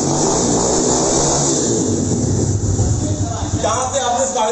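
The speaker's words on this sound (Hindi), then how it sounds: "ये किक से भी आपको मैं स्टार्ट करके दिखा दूँ गाड़ी" A mini ATV quad bike's small engine is kick-started and revved, running loud and close with a steady rumble that rises and falls, while someone speaks over it.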